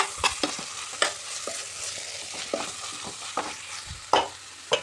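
A spoon scrapes and knocks repeatedly through a simmering jackfruit curry in a pan, giving uneven clanks over a soft sizzle close by, with no talking.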